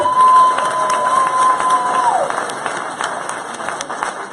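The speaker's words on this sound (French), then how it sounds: "Je vous demande de les applaudir aussi s'il vous plaît." An audience at a French-language speech cheers and applauds loudly, a dense crowd roar with a sustained whistle or tone in the first two seconds that then settles into steadier clapping.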